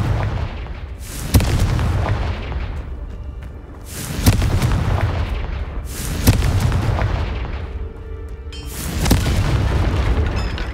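Fire blast spell explosions from the game Hogwarts Legacy, four loud booming bursts spaced a couple of seconds apart, each with a sharp onset and rumbling decay, no talking.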